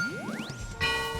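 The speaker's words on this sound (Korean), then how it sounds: "이번에는 골든벨이 울렸습니다." A quiz-show golden bell: a rising sweep leads into a bright ding with a shimmering ringing tail, short and clear with no talk.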